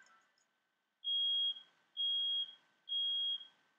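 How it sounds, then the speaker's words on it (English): Household smoke alarm in The Sims 4 chirping three times, loud, shrill, even beeps about half a second long with short gaps, close and alone after a quiet start. "Oh, that's my fire alarm."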